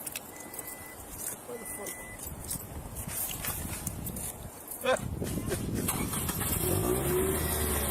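A car engine cranks and catches roughly as the driver fights a faulty clutch at a roadside traffic stop, then revs louder and steadier, with clicks and knocks and voices talking over it.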